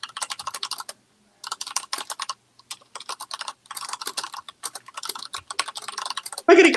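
Rapid clicking of computer keyboard keys in bursts with short pauses, close and fairly loud, during a casual online game night, ending in a louder thump.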